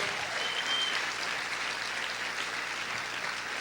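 Sustained applause from a church congregation during a sermon, an even, continuous rush of many hands clapping at moderate loudness with no speech over it.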